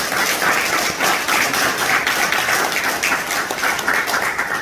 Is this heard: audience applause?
yes